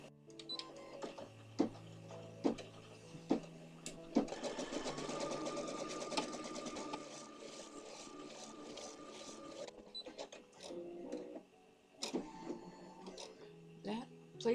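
Embroidery machine running a placement stitch on fabric, rapid rhythmic stitching in bursts with pauses and clicks, fairly quiet and close.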